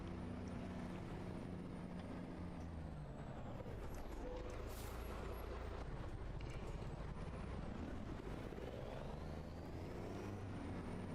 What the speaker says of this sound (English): And these trucks sound so good.